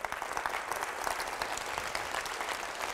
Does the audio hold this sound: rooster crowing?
no